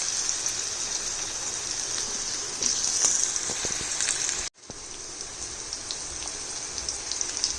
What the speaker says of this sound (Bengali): ফোড়নটা ভাজা হওয়ার পরে দিয়ে দিলাম আলুর টুকরো কাটা।